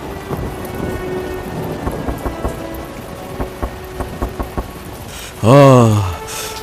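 Rain pours steadily through a stormy night while thunder cracks in short bursts, followed near the end by a louder swelling rumble close by.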